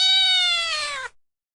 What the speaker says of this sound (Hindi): तभी अचानक एक बिल्ली की आवाज आई